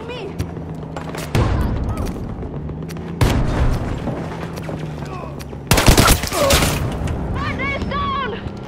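Gunfire in the video game Battlefield 2042 comes as loud bursts of automatic fire and booms in several clusters, over steady battle noise, with voices shouting in the mix.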